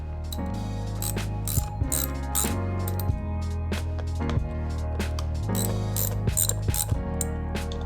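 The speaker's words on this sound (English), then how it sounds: "Here I've got mine set up on a ratchet so I can undo it by hand." Hand ratchet with a Torx bit loosening fasteners on a reclining chair mechanism, rapid clicking pawl bursts in repeated strokes with brief pauses between, close and loud, plus occasional metallic clinks.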